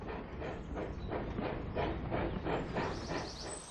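A cartoon steam engine huffs and puffs along the rails in a race, its steady rhythmic chuffs and rail clatter heard alone and continuous at a moderate distance.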